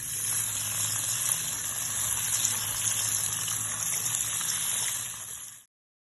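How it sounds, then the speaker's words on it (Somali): Tap water runs steadily over chopped potatoes being rinsed for a potato meat casserole, a continuous close gush and splash that stops abruptly near the end. "Halkan aan ku ridaa, kadib waan dhaqayaa."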